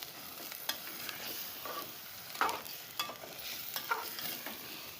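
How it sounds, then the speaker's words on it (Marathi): A spoon scrapes and knocks through vajdi (tripe) curry in a pan, with a soft sizzle underneath and a few sharper clinks spaced irregularly; nobody speaks. "आता हे चांगलं एकत्र मिक्स करून घ्यायचंय"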